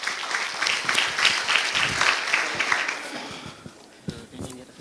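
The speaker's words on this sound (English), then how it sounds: "Welcome them with warm applause." Warm applause from a conference audience welcoming two speakers to the stage, a dense, steady clapping that fills the room throughout and tapers slightly toward the end, with a few sharper claps standing out.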